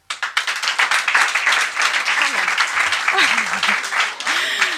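An audience in Marseille breaks into lively clapping that swells quickly and holds at a full, dense level, with voices calling and talking over it and a few whoops rising above the applause.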